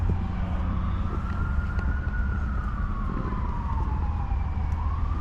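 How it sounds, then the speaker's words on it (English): Emergency sirens wail behind a hotel with a swimming pool on a Tennessee road trip, a loud continuous rising and falling tone sweeping steadily over traffic rumble for the whole stretch. "A lot of sirens going on behind us here, though."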